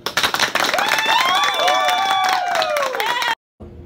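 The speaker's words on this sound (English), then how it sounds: "Please join me in a round of applause for all of our national award winners" Applause at a cadet awards night: busy clapping from a crowd, with a long, sliding, tonal whoop or cheer riding on top. It stops abruptly, then a brief quiet murmur follows.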